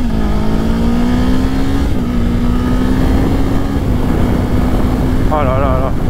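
A 2024 Kawasaki Ninja 7 Hybrid 500 motorcycle accelerates hard, its engine note rising steadily as it pulls through the gears, very loud and close with heavy wind rush and a brief whistling tone near the end.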